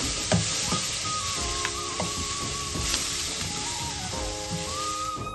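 Curry leaves and rice bath masala fry in a pan, a loud steady sizzle close by with occasional stirring knocks and scrapes and a faint background tone.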